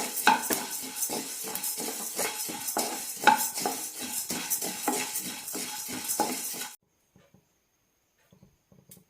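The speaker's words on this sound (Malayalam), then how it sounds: "ജീരകവും എല്ലാം നന്നായി പൊട്ടാൻ തുടങ്ങിയിട്ടുണ്ട്." Black sesame and cumin seeds dry roast in a pan, pattering and crackling under steady scraping stirs for about seven seconds, with a couple of sharper metallic clinks, then the sound cuts to near silence.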